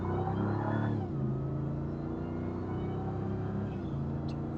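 Ram TRX pickup truck pulling away on a test drive, its engine surging briefly and then settling into a steady, muffled rumble heard from inside the cab.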